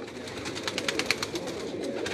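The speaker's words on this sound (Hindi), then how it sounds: "इंडियन गलवे कबूतर हैं उस्ताद मुल्ला के" Indian Galwe pigeons on a Karachi rooftop loft, cooing softly in a short run of repeated calls over steady background noise, with no talking.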